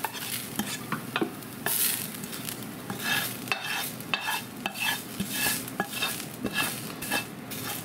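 Onions and garlic are spread around in a slow cooker for tomato soup, producing repeated close clinks and scrapes of a utensil against the pot over a soft, moist sizzle-like rustle.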